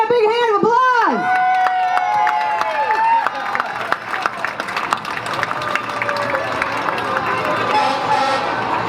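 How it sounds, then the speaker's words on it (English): Crowd applause and cheering at the 2019 North Hudson Pepper Fest parade ceremony, rising after a loud whistle-like tone and continuing as a steady outdoor wash of clapping and chatter, with voices mixed in. "Let's give Anita a big hand of applause!"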